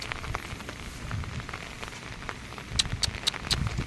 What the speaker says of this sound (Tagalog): Itong ulan na to sigurado magdamag ito.